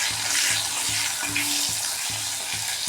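Turmeric and salt frying in hot oil, a dense, continuous close sizzle that stays level with no voices.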